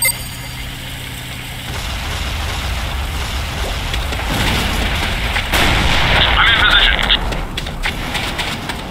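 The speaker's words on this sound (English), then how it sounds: "Simply bombard the village with long-range artillery." Long-range artillery bombardment in a video game rumbles as a continuous barrage of heavy blasts. It swells louder midway with dense, overlapping booms.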